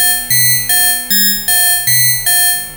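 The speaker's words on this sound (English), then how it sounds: "Metallic inharmonic weirdness." Metallic, bell-like FM synth tones from a Polyend Play+ ring out in a steady sequence of about seven struck notes with bright inharmonic overtones and a lower shifting pitch, each decaying before the next, loud and clean with no voices.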